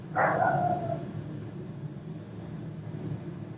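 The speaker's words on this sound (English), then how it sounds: "Sorry about the barking." A dog gives a single clear bark at moderate distance, followed by a steady low hum.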